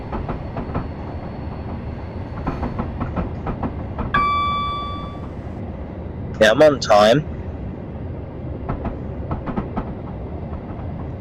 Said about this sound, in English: It really is good to drive a train.